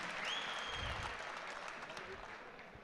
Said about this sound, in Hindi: जरा इनके लिए तालियां बजा दीजिए